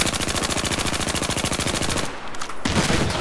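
Rapid 25mm cannon fire from a helicopter in Battlefield 4, a fast, evenly spaced stream of heavy shots that pauses briefly, then resumes.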